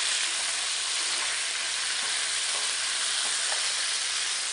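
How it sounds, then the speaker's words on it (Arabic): Meat seared in a hot pan for a cream meat tagine gives a steady, close, even sizzle and hiss that runs without a break and carries no voices. "ببتدي هلأ أشوح اللحم"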